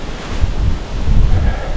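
Strong gusty wind buffets a microphone outdoors during a mountain-bike tour, producing low rumbling bursts that swell and fade in uneven pulses, close and loud with no talking.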